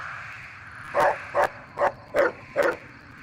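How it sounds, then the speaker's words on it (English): Rex the dog in Fallout: New Vegas barking five times in a steady, evenly spaced run, each bark short, loud and close over faint background hum, with no voices. "You start barking at the exact moment I accidentally lean on the volume button"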